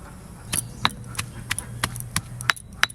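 Coriander leaves, green chilli, garlic and ginger are pounded for chutney, a series of about ten sharp, close knocks in an uneven rhythm over a faint low hum.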